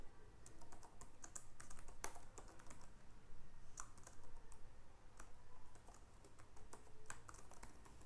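Steady run of computer keyboard typing while a project name is entered in a development environment, many quick close clicks with a few sharper key strikes, continuous over a faint background hum, no voices.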